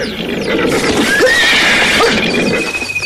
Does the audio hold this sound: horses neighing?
yes